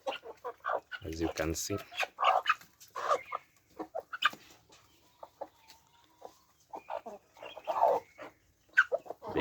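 Kienyeji chickens on a farm cluck and squawk in scattered bursts, with a dog barking near the start and a person speaking briefly between the calls.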